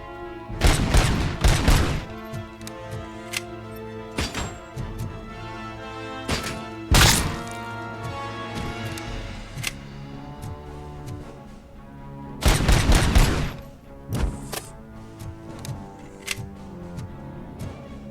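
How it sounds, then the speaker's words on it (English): Gunfire in the Robocop Rogue City video game comes in clustered bursts of sharp reports, loud volleys spaced by quieter stretches with ringing tones, with no talking. "Somebody's trying to shoot at me."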